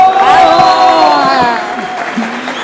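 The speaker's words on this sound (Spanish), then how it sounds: "para quien pido un fuerte aplauso" Audience applause at a panel event greets the moderator, a steady wash of clapping with some cheering that runs for the whole stretch while a voice talks over it.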